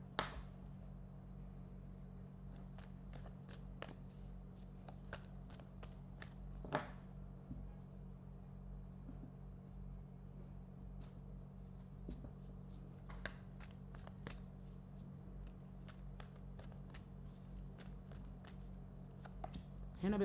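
Tarot cards being shuffled by hand over twenty seconds, a run of crisp riffling clicks and flutters, close and soft over a steady low hum.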